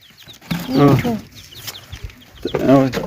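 Small chicken chicks cheep in thin, quick peeps near a person at home, with short bursts of close speech mixed in.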